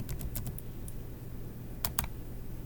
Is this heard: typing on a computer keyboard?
yes